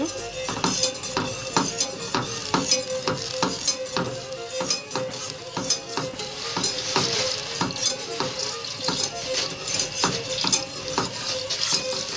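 Butter melts and sizzles in a pan for kuymak, with a steady frying hiss under repeated light scrapes and taps of a utensil against the pan.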